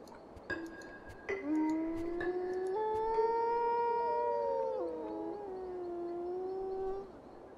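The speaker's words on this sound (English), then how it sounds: "So he howled" A game character in Tengami howls in long, sustained tones that rise and waver, following a couple of short earlier calls, all heard up close against a quiet background.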